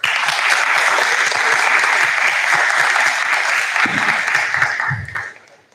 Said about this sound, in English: All of you have done exceptionally well and deserve a huge round of applause